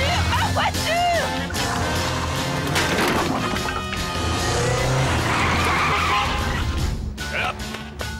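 A car skids with loud squealing tires and engine roar, a sustained chaotic burst with a possible crash, while voices shout excitedly over it.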